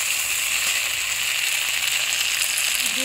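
A ground cumin and ginger spice paste fries in a hot pan for a Bengali prawn curry, with a steady close hiss and sizzle throughout and no voices.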